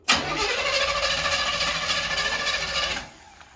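A 1978 Buick Regal engine cranks continuously for about three seconds with a rough, grinding whir, then cuts off without catching.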